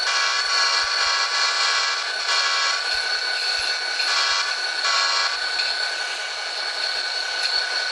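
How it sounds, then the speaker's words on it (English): Locomotives running in the TrainWorks 2 railway simulator, with a steady droning engine hum full of tonal whine and periodic swelling pulses, continuous and fairly loud with no talk. "Enjoy the sounds of the locomotives, you know?"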